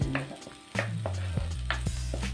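Curry leaves, spices and half a spoon of turmeric powder fry in a pan for a traditional yellowfin tuna curry, a steady close sizzle with stirring scrapes and a few clinks, louder after the first moment.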